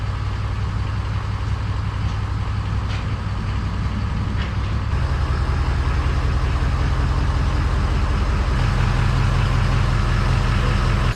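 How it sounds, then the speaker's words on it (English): Diesel engine of a flatbed work truck idling inside a garage, a loud, steady low rumble that runs unbroken throughout, with the pitch settling slightly midway. "There's really nothing quite like running your diesel engine in your garage."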